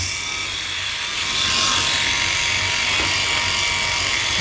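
A Philips i9000 Prestige electric head shaver cutting through about three days of hair growth, a steady close buzzing hum with a rough rasping texture that shifts slightly as it moves over the scalp.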